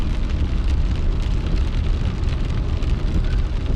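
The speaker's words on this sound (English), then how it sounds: "Raindrops are falling on my head." Rain drums steadily on a car during a dash cam drive through Gate City, Virginia, a dense, loud, even patter mixed with low road and engine rumble throughout, with no talking.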